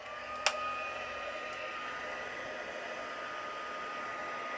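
A heat gun blows steadily while heat-setting glue on a handmade card, a continuous hissing whoosh that starts with a click and runs unbroken at close range.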